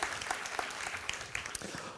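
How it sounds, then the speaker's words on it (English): A conference audience claps for a speaker taking the stage at a digital business event, a fairly quiet but continuous patter of many hands with scattered crisp individual claps. "Give him a big round of applause."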